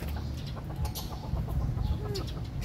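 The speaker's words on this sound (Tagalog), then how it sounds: "Ito, ordinary manok to" Ordinary chickens clucking in a wildlife park in Albay, soft and somewhat distant, with scattered short clucks over a constant low outdoor rumble and background ambience.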